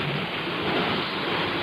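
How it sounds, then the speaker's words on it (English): A rain sound effect from a vintage CBS radio program gives a dense, even downpour hiss with a low rumble beneath. It plays loud and unbroken, with no speech. "The sound of rain."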